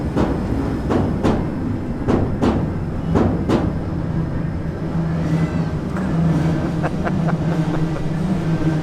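An electric train rumbles over an elevated railroad in Tokyo, heard from directly beneath: a steady, loud, close roar with a run of sharp rhythmic wheel clacks in the first few seconds, then a continuing rolling drone.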